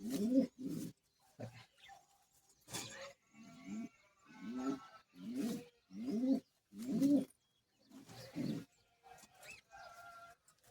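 Pigeons, a fast-breeding domestic flock, coo in a series of close, low, throaty bursts in a steady broken rhythm, with short silent gaps between calls and no talking.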